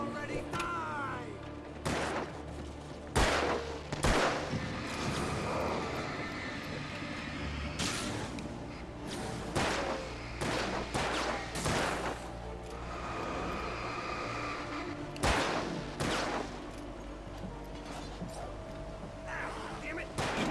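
Gunfire in the Alan Wake video game, repeated loud shots cracking through a dense, busy mix of engine-like rumble and game noise, with a voice talking at times.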